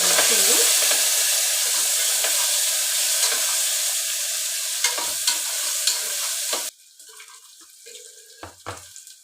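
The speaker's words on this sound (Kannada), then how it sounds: "ಅದರಲ್ಲೇ ಕರಿಬೇವು, ಹಸಿಮೆಣಸಿನಕಾಯಿ, ಇವಾಗ ಫ್ರೈ ಮಾಡ್ಕೊಳ್ಳೋಣ." Curry leaves and green chillies fry in a pan, giving a dense, steady sizzle with stirring scrapes that drops sharply to a quieter crackle near the end.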